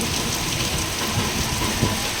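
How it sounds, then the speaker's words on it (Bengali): Heavy rain pours during a storm in Kaliyaganj, a loud, dense and unbroken roar of water hitting surfaces from start to finish, with no voices. "আজকে আমাদের এখানে প্রচণ্ড বৃষ্টি আর ঝড় উঠছে দেখতে পাচ্ছ মেঘ ঝিলকাচ্ছে পুরো জোরে বৃষ্টি হচ্ছে"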